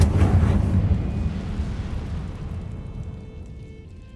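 A fire spell cast in Hogwarts Legacy bursts out with a loud, close roaring whoosh that swells at once and then dies away gradually over several seconds, heard on its own.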